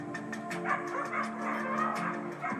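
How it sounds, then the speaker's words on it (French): A dog being walked on a leash near another dog whines and yips in short repeated bursts at close range, with no talking. "on va pouvoir le présenter à l'autre chien."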